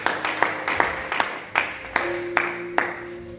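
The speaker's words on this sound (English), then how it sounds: "So could I have a clap offering as our usher comes up?" A church congregation gives a clap offering, with rhythmic group clapping in steady accented beats at a moderate distance, filling the hall with warm applause.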